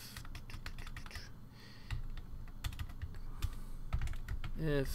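Keys clatter on a computer keyboard as code is typed for a Sprite Kit role-playing game, a brisk irregular run of clicks close by, with someone talking briefly near the end.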